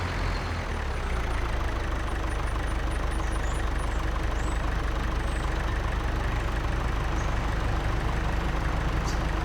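A tractor engine in a farming simulator game, a steady, heavy diesel-like idle drone with a low rumble and a slight knocking texture, holding close and continuous throughout.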